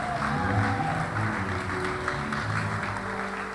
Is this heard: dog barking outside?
no